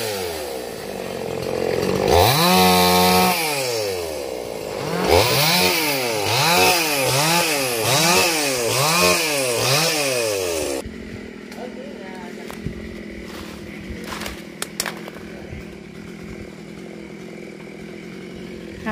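A chainsaw cutting the top of a Dau (oil) tree high up revs loudly in rapid rising-and-falling pulses for about ten seconds, then cuts off, leaving quieter outdoor sound with a few sharp knocks.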